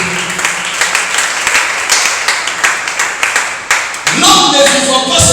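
A church congregation claps and cheers for the glory of Jesus, with dense, steady applause throughout and singing or a musical swell rising near the end.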